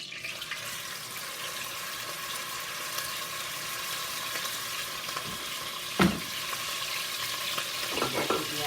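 A piece of beef pot roast sears in a hot pot of oil, giving a steady, dense sizzle throughout with one brief clank of metal near the end.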